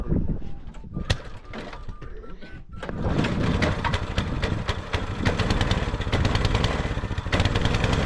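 Small motor on a motorized ladies' bicycle being started, first a few clattering knocks and cranking sounds, then the engine catches into a loud, fast, buzzing idle that continues steadily to the end.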